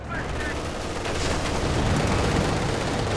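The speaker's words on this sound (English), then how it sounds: "Rounds one way, grenades the other." Rifle rounds and grenade blasts in a 4v4 Company of Heroes 2 battle, dense rattling gunfire and booms blending into a loud continuous barrage.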